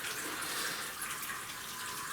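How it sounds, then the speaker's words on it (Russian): Clean water rushes steadily from a pipe while flushing a home heating system, a continuous bright hiss of flowing water, close and unbroken, with no voices. "включил воду. Сейчас промываем систему чистенькой водой"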